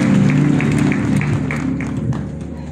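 A crowd applauding the governor at a memorial gathering, dense continuous clapping with a steady hum underneath, fairly loud and sustained throughout.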